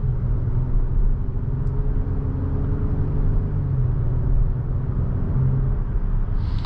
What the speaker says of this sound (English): I love the sound of this V6.